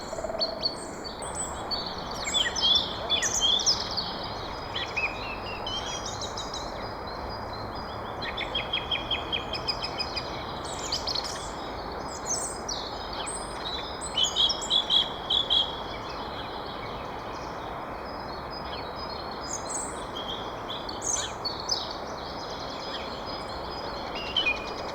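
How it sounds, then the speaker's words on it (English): Songbirds sing in the early morning, with bursts of bright chirps and trills rising repeatedly over a steady background hiss, moderately distant and with no talk. "I really wanted the birds singing"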